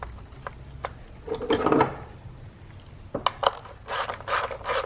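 A ratchet tightens the 10 mm ignition coil bolt on a 2019-or-later Kia Forte engine, giving close, crisp bursts of clicking pawl strokes with short pauses between them, and nobody speaks.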